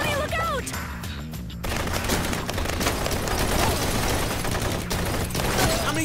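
Gunfire in an action film scene crackles in a dense, loud fusillade of rapid overlapping shots and bursts, with a brief quieter gap near the start and a voice shouting over the shooting.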